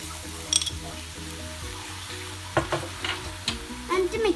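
Chickpea masala chaat with tomato, coriander and cucumber being stirred in a pan, giving scraping, clattering stirs in a few bursts over a steady soft sizzle, close and moderately loud with no talking.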